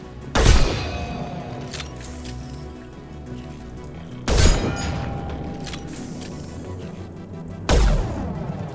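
Gunfire from the video game Mass Effect 2: three heavy, booming shots spaced a few seconds apart, each with a sharp attack and lingering low rumble over a quiet background.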